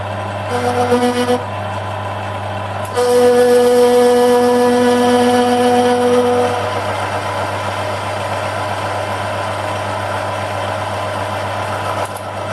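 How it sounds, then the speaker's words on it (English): A metal lathe machining hard material from a dead angle grinder, a steady motor hum with a thin tonal whine that rises for a few seconds and then fades back to the drone. "This lathe's got a pretty strong compound on it, so we'll just machine away now, see how we go."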